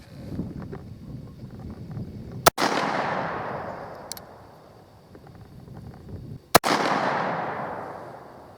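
Two sharp gunshots from a Bearman Derringer 9mm pistol fired at a target, each a loud crack followed by a long rolling echo that fades over several seconds, with outdoor wind noise between the shots.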